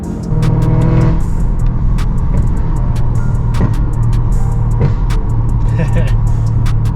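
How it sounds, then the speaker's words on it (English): A supercharged BMW M3 running on E85 idles and revs loudly up close, small sharp exhaust backfires popping at intervals over the engine note. "I love the little backfires she throws out now"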